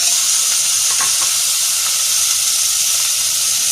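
Loud, steady sizzling and hissing of chicken added to hot oil, a dense crackling wash with a few small pops, continuous throughout.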